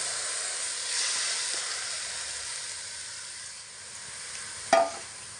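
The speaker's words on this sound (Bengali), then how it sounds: "খালি কড়াইয়ের মধ্যে দিয়ে দেব ধুয়ে রাখা মসুর ডাল" Washed masoor lentils dry-roast in an empty wok, giving a soft, steady hiss of steam and sizzle, with one sharp scraping clatter near the end.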